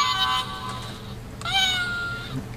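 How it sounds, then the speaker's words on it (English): A cat meows twice, close and clear, each call drawn out with a rising then falling pitch, over a faint background hum. "Hey, is that your cat?"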